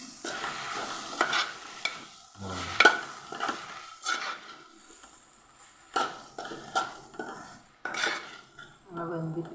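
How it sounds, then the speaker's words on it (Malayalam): A spoon stirs aloo gobi filling of potato and cauliflower in a pan, giving repeated scraping and clinking strokes in an irregular rhythm, close and moderately loud, with no talk. "ഇളക്കാം."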